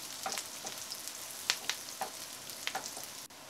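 Beef fries in a pan with finger chilies and curry leaves, a soft continuous sizzle broken by light scraping stirs and a few crackling pops, close and fairly quiet.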